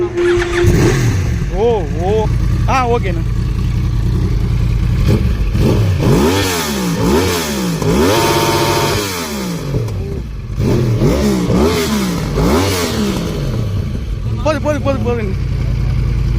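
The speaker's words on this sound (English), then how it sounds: "So this is the exhaust sound of Yamaha R1." Yamaha R1 superbike fitted with a Twin Brothers racing exhaust, revved repeatedly in sharp rising and falling bursts, loud and close, with someone speaking briefly over the engine.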